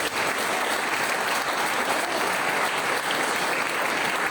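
A large church congregation claps together, a loud, sustained burst of applause filling the room with no voices standing out.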